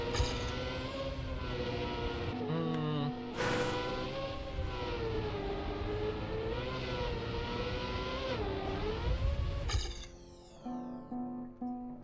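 Car engine in the Trackmania racing game, revving steadily through a hard drift with rising and falling pitch, loud and continuous, with synthetic tones layered over it and a brief sharp chime near the end.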